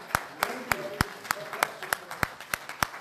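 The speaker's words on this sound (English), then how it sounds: "Please welcome him with the applause." Sparse, evenly spaced claps from an audience at a fundraising dinner welcoming a speaker, about ten sharp hand claps in steady rhythm with faint background murmur.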